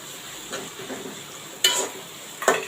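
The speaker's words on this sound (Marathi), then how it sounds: "कांदा आपला चांगला भाजला जात आहे" Onions frying in a pan for prawn biryani, a soft continuous sizzle broken by a few louder stirring scrapes, close by with no talking.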